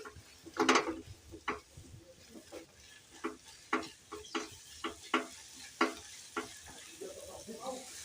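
Halwa being stirred in ghee in a pan, heard as a series of fairly quiet, irregular scraping strokes of a spoon against the pan over a faint sizzle, with no talking.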